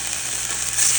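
Potato-like slices fry in oil in a hot skillet, giving a steady, dense, close sizzle that swells slightly toward the end.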